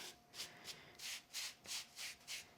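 A soft pad rubs excess gold gilding flakes off a crafted background in about eight short, even back-and-forth strokes, a quiet close brushing rasp with no talking.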